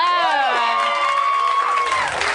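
A live podcast audience cheers and whoops, a single loud wave of high shouts and crowd noise lasting about two seconds before fading.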